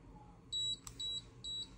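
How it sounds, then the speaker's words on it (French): Three short, high-pitched electronic beeps in an even rhythm from an audible beacon remote control, clear and fairly close against a quiet background. "Ah, pardon, 3 bips courts."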